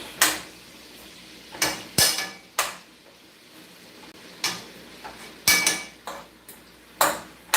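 Onion breaking up in cabbage in a pan with a utensil: sharp metallic scrapes and clanks come in irregular bursts, close and clear with quiet gaps between them.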